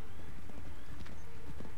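Connor's horse gallops in Assassin's Creed 3, its hooves beating a quick, steady rhythm of close, loud thuds that run without a break under the game's background noise.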